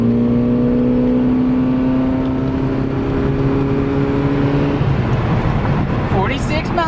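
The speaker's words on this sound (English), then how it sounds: "Alright, let's see what it's like to drag race a Prius" A Toyota Prius pulls away hard in a drag race, its steady whining tone climbing for several seconds before the pitch shifts abruptly as it keeps accelerating. Loud, close and continuous.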